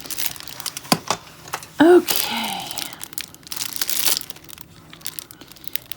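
Plastic packaging around a set of watercolor sketch pencils crinkles and tears in scattered bursts as someone struggles to open it, with a short spoken word amid the rustling.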